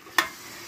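Meat being turned and stirred in a large frying pan while it browns, heard as a single short scraping burst followed by a faint, steady sizzle, with no voices.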